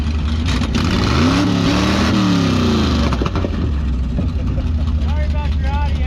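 Engine of a 1968 Plymouth Satellite at a drag racing event, a loud continuous rumble that rises and falls in pitch as it revs, with background noise throughout.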